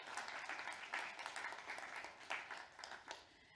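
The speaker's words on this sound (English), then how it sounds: "join me in just giving a round of applause for Otto and his years of contribution" A summit audience applauds Otto for his years of contribution to GAAPP, a steady wash of many hands clapping at a fairly low, distant level with a few sharper bursts.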